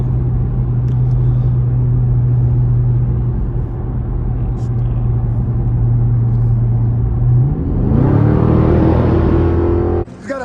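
A 392 engine fitted with 5-inch exhaust tips idles with a steady low drone inside the car, then rises in pitch and loudness as it pulls in sport mode. A short bump is heard at the end.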